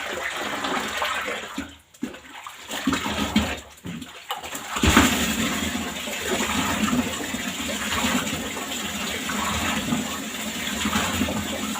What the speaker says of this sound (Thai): เปิดน้ำให้เต็มเลยนะคะ